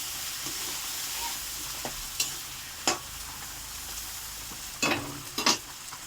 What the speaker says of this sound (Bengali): এক চামচ নুন দেওয়া হয়েছে ভালো করে কষাবো